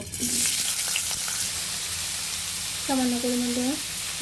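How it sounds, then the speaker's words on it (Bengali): Potatoes fry in about 100 spoons of white oil in a kadai, giving a continuous close sizzle, while someone speaks briefly over it. "প্রথমে আমরা কড়াই বসিয়ে দিয়েছি, 100 চামচ পরিমাণের মতো সাদা তেল দিয়ে দিয়েছি। প্রথমে আমরা আলুগুলো ভেজে নিব।"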